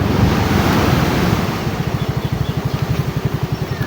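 Rough sea surf pounds near a bathing beach in bad weather, with loud wind buffeting the microphone and a steady roar of waves, later joined by a rapid pulsing rumble.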